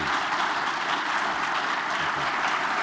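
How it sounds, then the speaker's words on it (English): Audience at a student success summit applauding panelists, a steady dense wash of clapping filling the room without pause, fairly loud and even throughout. "if you all join me in an applause in thanking our panelists"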